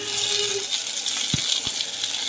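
Chopped onion goes into hot oil already holding cloves, cardamom, cinnamon and a bay leaf for a country chicken curry, raising a steady, close frying sizzle with a couple of soft knocks from stirring.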